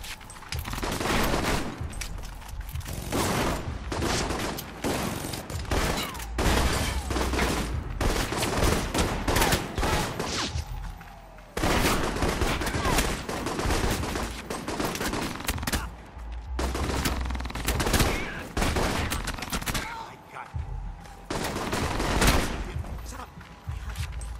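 Heavy cannon fire in the video game Alpha Protocol, set in a park: loud, dense volleys of booming shots and rapid bursts that roll on almost without pause, with brief lulls between barrages.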